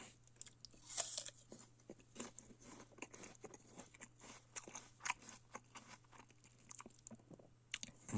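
A winter apple is bitten and chewed up close, giving a string of crisp, juicy crunches in an irregular rhythm that is fairly quiet and heard alone.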